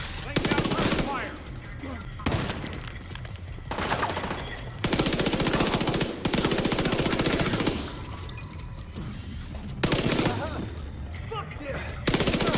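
Gunfire fills a firefight in The Division 2 at the Capitol Building stronghold: dense, loud automatic bursts and rattling shots run almost continuously, with voices talking through the gunfire.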